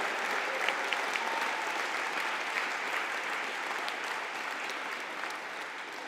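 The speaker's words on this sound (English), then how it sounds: "can we please have a collective round of applause for the Certificate in Operations," Collective round of applause from the audience at a conferring ceremony for the Department of Lifelong Learning, broad sustained clapping from a large crowd, steady and continuous with no speech over it.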